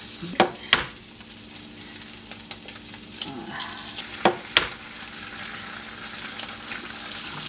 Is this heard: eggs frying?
yes